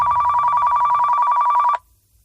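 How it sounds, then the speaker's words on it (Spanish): A telephone rings loudly and steadily in an even electronic trill for almost two seconds, then cuts off abruptly into near silence, with no voices. "Suena el teléfono."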